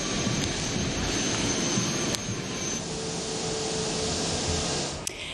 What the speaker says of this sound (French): Les avions de chasse relevant des forces aériennes algériennes ont escorté l'avion présidentiel dans l'espace aérien national.